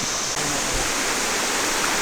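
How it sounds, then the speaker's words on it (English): A waterfall on the Walls of Jericho trail in North Alabama rushes in a loud, continuous broadband roar that fills the scene without pause. "There's a waterfall right there."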